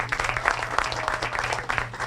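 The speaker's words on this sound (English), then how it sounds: "Let's have a big round of applause." An audience claps for a couple of seconds at a celebration on a television talk show, a moderately distant, steady patter of hands with a low hum underneath.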